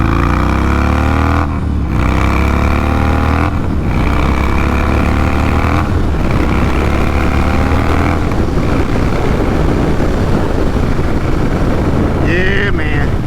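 An Indian Chief motorcycle cruising on the road with an ABS light on: a steady engine drone and rushing wind run throughout, with someone speaking over the ride.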